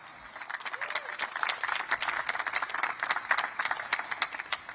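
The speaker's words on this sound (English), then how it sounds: "So a round of applause for that." A crowd at a motocross press conference in Pala, California applauds with dense, steady clapping that continues throughout, without any talking.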